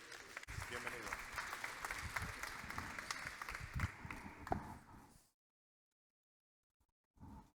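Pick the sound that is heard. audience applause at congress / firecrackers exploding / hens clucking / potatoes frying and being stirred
audience applause at congress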